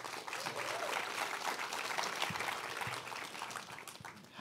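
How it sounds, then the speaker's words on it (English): Audience applause at a film screening event honoring a short film director, a steady wash of clapping held at an even level for several seconds. "Give a round of applause for Ed Hellman."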